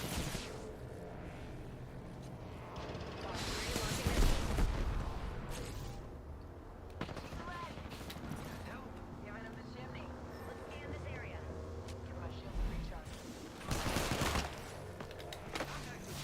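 Gunfire in Dead by Daylight, a multiplayer horror game, including a 30-30 rifle: bursts of shots crack loudly, one heavy cluster early and another near the end, with talk running throughout.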